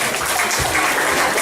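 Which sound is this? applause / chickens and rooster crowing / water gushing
applause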